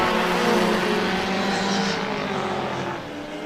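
Porsche and Alfa Romeo Group S sports race cars heading into turn 1 on a circuit make a steady, loud engine roar that fades slightly toward the end.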